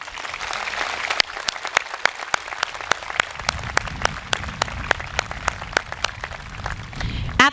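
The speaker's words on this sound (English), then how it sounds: "And please give them a round of applause." A group at a high school graduation ceremony applauds with steady, evenly spaced claps, fairly close, continuing throughout without any talking.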